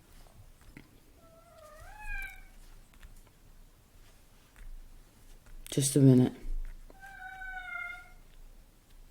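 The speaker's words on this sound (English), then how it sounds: "Let me let that cat out." A house cat meows twice indoors, rising harmonic calls near and clear, with a short burst of handling noise between them and a person speaking briefly.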